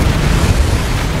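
A spell cast in Hogwarts Legacy lands as a loud, dense booming burst with rumbling low end, sustained briefly and close.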